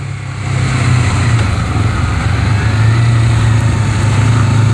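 Honda CBR250RR motorcycle fitted with a 3Tech Evox X5 silent black exhaust, engine rumbling steadily at a near, loud idle with a low, even drone and slight rises in revs.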